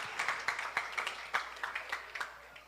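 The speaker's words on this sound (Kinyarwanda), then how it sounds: "Tumukomera amashyi Grace." A crowd claps for Grace, a contestant named at a singing event, with brisk, fairly regular rhythmic claps at moderate loudness and a faint low hum beneath.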